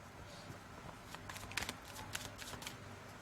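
Tarot cards shuffled by hand, a quiet, close run of rapid papery riffles and flicks with a few sharper snaps in the middle, no talk.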